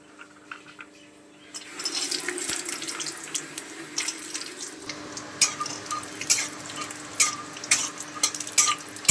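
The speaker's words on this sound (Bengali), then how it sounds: "প্রথমেই আমরা এখানে কাজু আর আমন্ড বাদামটা একটু ঘিয়ে ভেজে নেবো" Cashews and almonds sizzling in ghee in a pan, a steady hissing fry that starts after a quiet moment, with occasional stirring scrapes and crackles, close and moderately loud.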